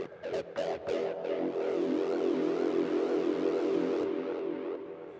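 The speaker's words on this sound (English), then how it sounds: "Has some delay and reverb on it and is a sort of growl." Melodic techno synth track from Serum in Ableton carrying a gritty, growling sustained tone drenched in delay and reverb, opening with a few quick stabs and then holding a dense, wavering drone, steady and mid-loud with no talking.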